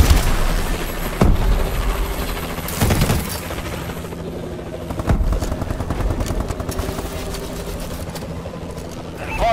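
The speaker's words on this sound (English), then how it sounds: "Enemy warbird above!" An enemy Warbird aircraft in Call of Duty: Advanced Warfare multiplayer drones and whirs overhead beneath scattered gunfire bursts and announcer voice callouts, the engine rumble holding steady throughout.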